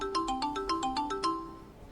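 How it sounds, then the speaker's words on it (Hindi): A phone ringtone plays a quick repeating melody of bright electronic beeps, then stops, heard clearly on its own. "सर आपका फोन आ रहा है।"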